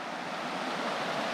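A cold mountain creek rushes downstream in the Victorian High Country, a steady, close, full-bodied wash of running water with no voices.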